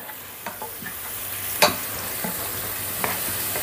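Pork fries in a pan with a continuous sizzle, broken by several spoon-on-pan knocks and one louder clatter, with no talk.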